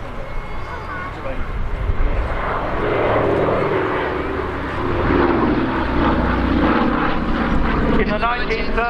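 Vintage Douglas propeller airliner of the Commemorative Air Force at an airshow, a steady loud engine drone that holds and swells through the whole stretch, with a voice speaking over the top.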